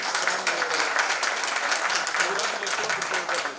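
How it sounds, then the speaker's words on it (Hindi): Audience at a Hindi-Urdu poetry recital breaks into dense, continuous applause, a loud wash of many hands clapping that fills the whole stretch without pause. "एक बार तालियां बजा के मेरी हौसला अफजाई कर दें"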